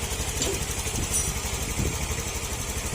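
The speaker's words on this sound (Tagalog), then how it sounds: "hindi na mamatay-matay yung makina" A Honda Click 125 scooter engine idles steadily without stalling, a close, even low putter with a rhythmic pulse and faint mechanical rattle throughout.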